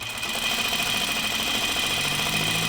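Sewing machine stitching a jeans pocket bag with navy blue thread, a steady low motor hum and even mechanical buzz, fairly quiet and continuous without speech.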